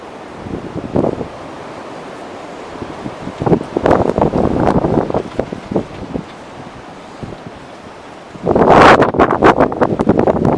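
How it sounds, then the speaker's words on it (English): Gusty wind blowing outdoors by a barn on wet, muddy ground buffets the microphone in uneven rushes, with a strong, loud gust near the end. "Nice and windy."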